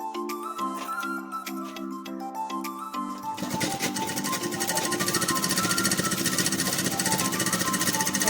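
A sewing machine runs a straight seam on a lungi, breaking into a fast, close mechanical rattle partway through that holds steady to the end, following a stretch of tonal background sound.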